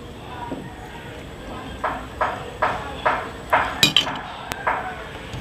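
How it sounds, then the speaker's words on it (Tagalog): A spoon stirring dinuguan liempo, pork belly in blood stew, inside a metal cooking pot, scraping and clinking about seven times in a steady rhythm, close and moderately loud with no talk over it. "Haluin ko muna."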